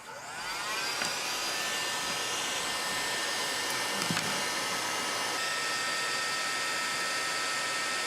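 A heat gun blows steadily while shrinking heat shrink tubing on a marble machine build, a constant loud airy roar lasting throughout with a faint click midway.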